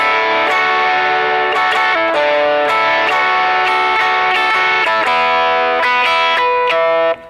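An electric guitar through vintage overdrive plays a melodic solo line, sustained, gritty notes with no delay, loud and close, ending abruptly.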